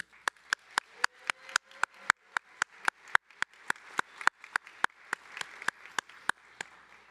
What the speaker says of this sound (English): please join me again in giving Mia Frazier another round of applause